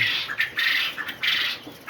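Caged quails, some of them sick, give a series of shrill, squawking calls close by, repeated in short bursts about every half second.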